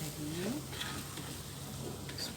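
Fish curry spice paste sizzles in a pan while being stirred, a steady close frying hiss with occasional scraping, and a faint voice speaking briefly underneath.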